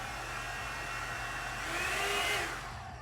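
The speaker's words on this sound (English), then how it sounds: "I'm gonna finish blow drying my hair" A one-step hair dryer brush blows in a steady, close whir that swells briefly louder partway through as it moves over the hair, with no talking.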